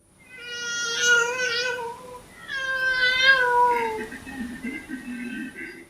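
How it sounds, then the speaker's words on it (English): A koala at night, recorded, gives two long wailing cries that fall in pitch, followed by lower rasping grunts, loud and close with no other sounds. "at night, they make this crying kind of grunting sound"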